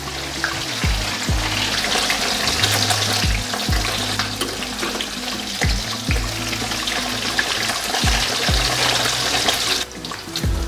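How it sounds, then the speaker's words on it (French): Wagashi cheese sizzles in hot oil for peanut sauce, a dense, steady crackling hiss with intermittent pops and bubbling, loud and close throughout with a brief dip near the end. "nous sommes en pleine préparation de notre sauce d'arachide et en pleine friture du wagashi"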